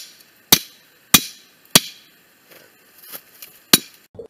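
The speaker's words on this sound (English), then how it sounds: "A few swats of the hammer." A hammer strikes a part being driven into place in a series of sharp metallic blows, four loud evenly spaced hits followed by lighter taps, close and ringing against a quiet background.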